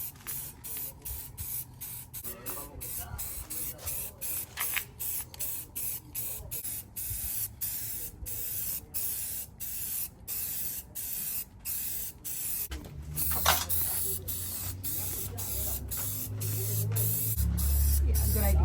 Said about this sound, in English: Take this bumper off real quick and prime it?